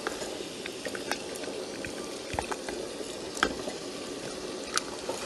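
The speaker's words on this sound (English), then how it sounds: "I'm going to mix everything together" Egusi melon soup with spinach is stirred in a pot, a low bubbling simmer under scattered light clicks and scrapes of a spoon against the pot, close by and steady, with no talking.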